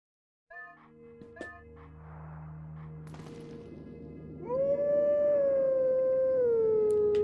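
A wolf howls a tune at a stone in a Zelda game, the sustained tonal calls rising in pitch and growing louder toward the end, set over steady in-game background sound.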